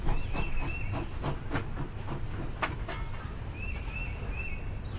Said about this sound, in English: at the train station.